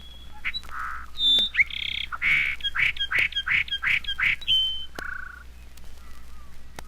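Birdsong slowed to half speed and dropped an octave, heard as a string of lowered whistled notes: a few opening calls, then a run of six evenly spaced rising chirps and a final lower note, clear and close with no other sound.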